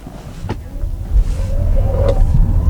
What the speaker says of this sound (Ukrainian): будемо трохи розганятись